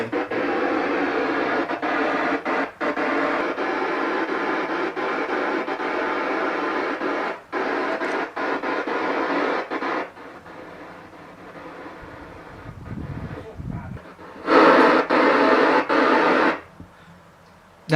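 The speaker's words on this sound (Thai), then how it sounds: "ไอเสียงสู้ๆที่ดังอยู่นี่ก็คือสัญญาณที่ยังพอรับได้เบาบางนะครับ" Faint SSTV radio signal from the ISS picked up on a handheld radio, a steady hissing warble with brief dropouts and a louder burst near the end, alone without voices.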